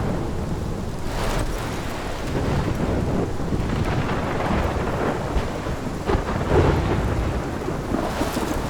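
In the video game Life is Strange, a thunderstorm with rain roars steadily while low rumbles of thunder rise and fall through the downpour, loud and close, with no voices.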